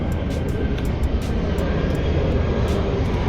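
An airplane passing low near Miami Airport fills the air with a loud, continuous roaring whoosh that stays steady overhead, while sharp intermittent clicks and hisses sound in the foreground.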